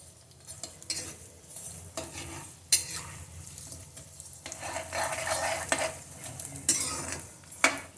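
Gundar (edible gum) frying in a pan over a slow gas flame, with steady soft sizzling broken by repeated close scrapes and metallic clinks of a stirring utensil against the pan.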